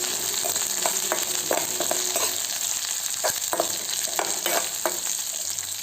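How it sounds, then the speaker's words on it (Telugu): Onions, green chillies and curry leaves frying in a pan, a loud, dense, continuous sizzle close by with repeated scraping stirs spread through it, no talking. "కరివేపాకు యాడ్ చేసుకున్నాను. దాన్ని బాగా కాసేపు ఫ్రై చేసేసుకుందాం."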